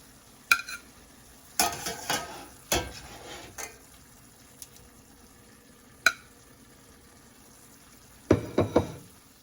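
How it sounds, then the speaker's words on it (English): Cooked ground beef being scraped and stirred out of a frying pan onto a plate, with intermittent utensil clanks and knocks, a brief faint sizzle, and a clattering burst near the end; no voices. "remove this ground beef from the pan, transfer it to a plate"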